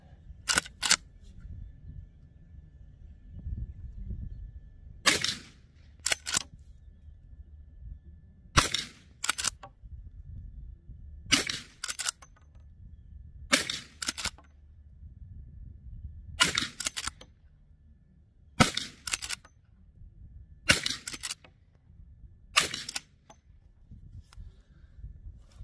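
Shots from a Marlin 1894 lever-action rifle in .357 Magnum, a series of about ten sharp, loud reports fired in pairs and singles with pauses between, over a low outdoor rumble.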